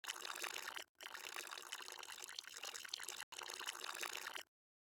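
Water poured from a cup into a blender cup holding chia seeds, a steady close splashing pour in three bursts separated by brief pauses, with no talk.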